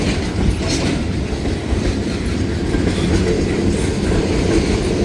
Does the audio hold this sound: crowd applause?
no